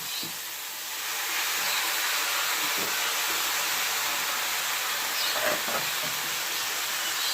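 Drumstick vegetables frying with tomato, green chilli paste and spices in a pan, giving a steady, loud sizzling hiss that holds throughout with no talk.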